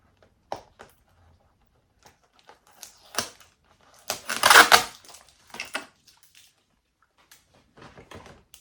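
Sellotape is peeled and handled during plant repotting, giving scattered close crackles and rustles with a louder ripping burst in the middle, then softer taps and scrapes.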